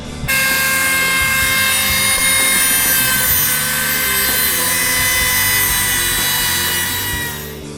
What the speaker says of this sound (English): Let me take it apart and grind down what I just did.